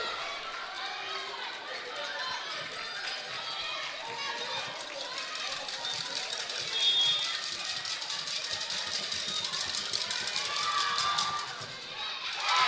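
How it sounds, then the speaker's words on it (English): Volleyball crowd inside an indoor gym erupts after a missed serve, lively cheering and chatter with squeaking shoes, building to louder swells around the middle and near the end, with a commentator talking over it. "a missed serve by Riley Lancia as the crowd erupt here inside the Lancer Dome"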